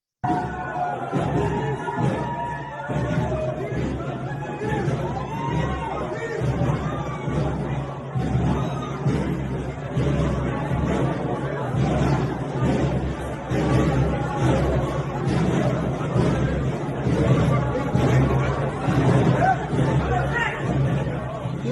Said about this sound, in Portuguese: Sérgio Moro é vaiado e chamado de lixo em aeroporto